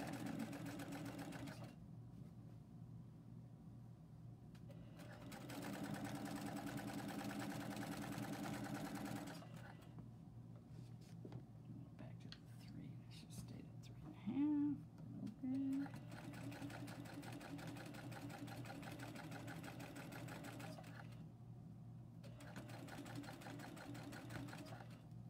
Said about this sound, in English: So now we're back to top stitching the neckband on.